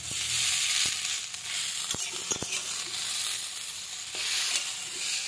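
Chowmein fries in a hot pan, giving a loud, continuous sizzle broken by several sharp clacks and scrapes of a utensil stirring the noodles.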